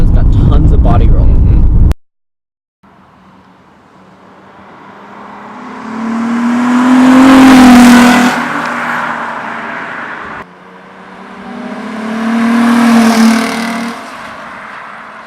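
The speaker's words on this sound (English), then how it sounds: "From the outside, those flybys sound awesome." A Nissan 350Z sweeps past twice, each engine note rising loudly as the car approaches and revs, then fading away. It follows a brief burst of speech and a short silence.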